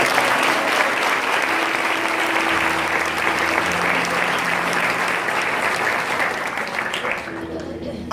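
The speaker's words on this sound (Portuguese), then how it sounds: "Quem pode aplaudir ao Senhor?" A church congregation applauds the Lord during a sermon, with dense, continuous clapping from a large crowd that holds steady for several seconds over a faint tonal hum before easing slightly at the end.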